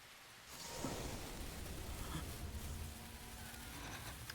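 Heavy rain pours in an anime episode as a dense, low-level hiss that swells after a brief quieter start and then holds steady, with a faint rumble beneath. No voices are heard.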